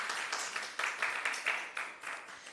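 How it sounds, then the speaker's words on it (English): Audience applause for Prof. Edwards at a national health research conference, a faint, uneven patter of scattered clapping from a small crowd. "Let us give another round of applause for Prof."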